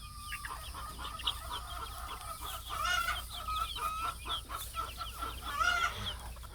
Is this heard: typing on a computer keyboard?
no